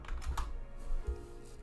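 Quick light clicking of keys on a computer keyboard, a short burst of several taps close by, with no talking.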